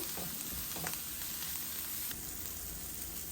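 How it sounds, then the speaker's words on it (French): Food sizzles and fries gently in a pan over low heat, a continuous soft crackling hiss with a few faint stirring scrapes, steady and quiet with no talking. "On fait revenir comme ça pendant 2-3 minutes à feu doux."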